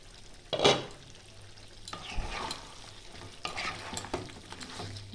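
Mutton rogan josh cooking in oil in a covered pot, giving a low steady sizzle broken by a few sharp clanks and scraping stirs, close and moderately loud with no voices.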